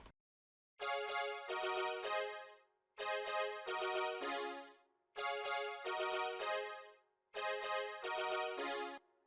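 Four identical bursts of a bright synthesized brass chord in an FL Studio seben beat, each about two seconds long with a stepped rise in pitch, separated by short silences, clean and alone.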